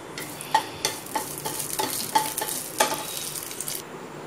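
Bay leaf and cinnamon frying in oil for a vegetable kuruma, a soft continuous sizzle with rhythmic scraping taps of a spoon stirring in the pan, close and steady.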